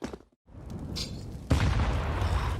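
A grenade goes off in Counter-Strike: Global Offensive during a pro match, a deep boom that follows a brief silence and rolls into a sustained, rumbling blast, loud and close.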